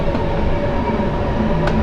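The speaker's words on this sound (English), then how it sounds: "I did hear another train." Electric London Underground train in Train Simulator 2019, a distant second train on a Metropolitan Line platform at Northwood, heard as a steady low rumble and hum for about two seconds with no talking.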